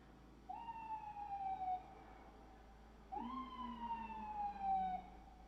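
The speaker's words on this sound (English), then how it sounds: "here comes the ambulance" An ambulance siren passes outside, faint and distant, sounding as two long, gliding wails separated by a short gap.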